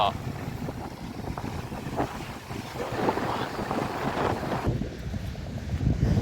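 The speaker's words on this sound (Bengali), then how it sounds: "এই হচ্ছে দেখুন নৌকা করে আসছে" A fishing boat comes in to the sea shore at Kalpakkam, Tamil Nadu, heard as a low continuous rumble. Gusty wind buffets the microphone and surf washes in the background.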